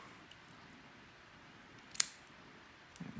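One crisp, close scissor snip cuts during the building of a vape coil, surrounded by near silence.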